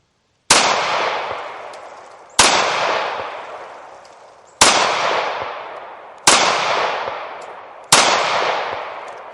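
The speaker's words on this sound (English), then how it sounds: "I'm going to click the selector lever off safe and fire away." Five loud, close gunshots from a SCCY CPX-1 pistol, spaced about two seconds apart, each a sharp crack followed by a long decaying echo, with no talking.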